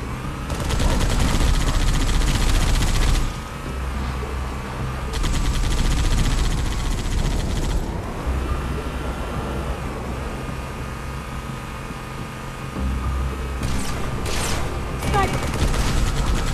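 Sustained squad gunfire in a video game, dense loud bursts of rapid automatic shots and explosions with brief lulls, mixed with game ambience.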